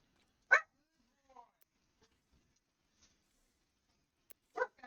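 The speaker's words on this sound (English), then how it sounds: "Gratuitous dog barking." A dog gives two sharp barks, one near the start and one near the end, with a couple of faint yips between them against near silence.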